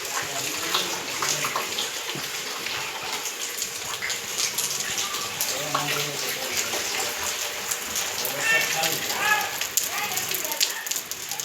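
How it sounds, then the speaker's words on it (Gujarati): Steady rain with wind sweeping over a parked car that has stalled in a downpour, a constant broadband wash with occasional splashes, while people talk faintly in the background. "પવન સાથે વરસાદ આવે હો ભાઈ."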